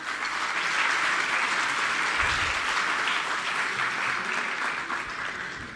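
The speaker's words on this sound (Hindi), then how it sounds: "तालियाँ।" Loud, sustained applause from an audience at a school inauguration ceremony, dense clapping continuing evenly for several seconds before tapering slightly at the end.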